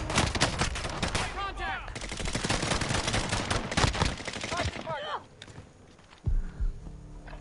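Rapid gunfire from low-damage weapons in a video game, dense bursts of shots crackling loudly for several seconds, then fading to quieter sounds, with voices talking over it.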